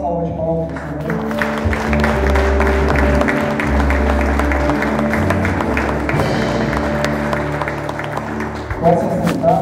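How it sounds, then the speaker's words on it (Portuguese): A church congregation bursts into sustained applause and clapping after a sermon, a dense crowd sound that swells and fades over a few seconds, with a voice speaking over it. "Vamos dar uma salva de palmas para o Senhor"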